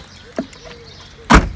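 A car door, on a Volkswagen Golf taken for repainting, shuts with a solid thud near the end, after a softer click a moment earlier; both sounds are close and brief.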